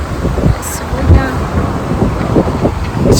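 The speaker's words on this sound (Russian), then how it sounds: "очень сильный ветер" Strong, cold wind buffets the microphone outdoors in Saint Petersburg, giving loud, continuous low rumbling gusts and thumps throughout, with faint voices underneath.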